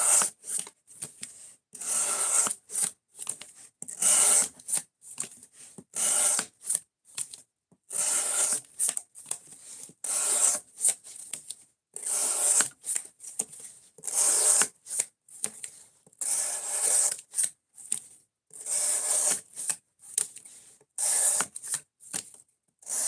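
An S90V steel knife edge is drawn across a sharpening stone in repeated short strokes, a dry rhythmic rasping scrape with brief pauses between passes, close and fairly quiet with no talking.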